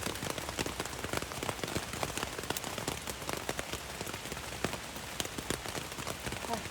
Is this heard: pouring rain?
yes